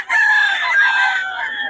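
A rooster among chickens brought from Pampanga lets out a single loud, drawn-out crow close by, clear and alone.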